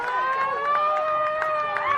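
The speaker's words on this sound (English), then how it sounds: "got our own siren noises from the sideline here" A siren wails from the sideline at a youth rugby league grand final in an outdoor park, its steady rising and falling tone loud and continuous over crowd noise and talk.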